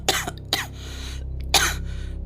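Several harsh coughs in separate bursts, close and loud, with a steady low hum running underneath throughout.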